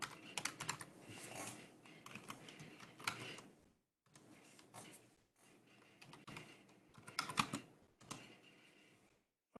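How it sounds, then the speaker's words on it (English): Fast typing on a computer keyboard during a Linux tutorial, quiet, close clicky keystrokes in irregular bursts separated by short pauses, with no voices. "let me just type something in here for free."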